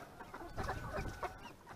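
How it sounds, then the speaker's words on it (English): A flock of about 75 farm chickens at feeding time, with dense overlapping clucks and rooster calls that form a busy, close, continuous clamor and no talking. "This is what it's like at feeding time with 75 chickens."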